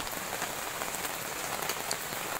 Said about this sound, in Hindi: पवन सहित वर्षा